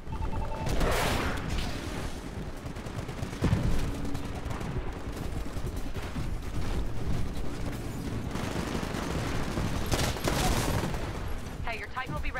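Sustained gunfire in the Titanfall video game, with dense rapid shots and booming blasts rolling through a loud, continuous battle soundscape, while a voice comments over the action.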